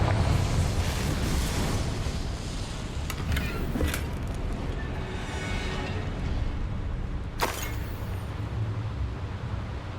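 Confringo fire-blast spells go off during a fight in Hogwarts Legacy: a few sharp, fairly soft bursts over a steady rumbling background of combat noise.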